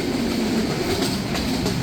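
Drutojan Express passenger train rolls along at night, its steady, loud rumble and rattle of carriages carrying on without a break.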